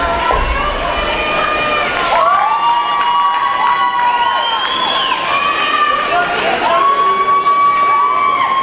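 Roller derby crowd at a bout between Emerald City Roller Girls and Sin City Roller Girls cheers and whoops steadily throughout, a dense roar of shouting voices with rising calls, loud and continuous.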